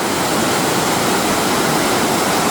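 Bridal Falls in the Cordillera mountains pours in a loud, steady roar of rushing water, dense and unbroken throughout, with no voices over it.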